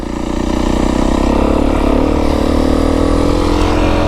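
A 2025 Beta 350 RR X-Pro dirt bike engine runs loud and close, a steady buzzing drone that holds nearly level throughout with a slight rising pitch, no voices over it.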